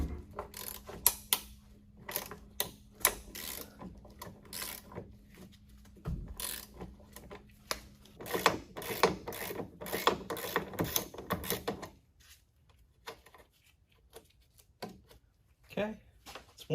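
A ratchet wrench clicks in quick, close bursts while breaking a rear suspension bolt free on a Fiat 128, with a low mechanical hum for the first several seconds and short pauses between pulls.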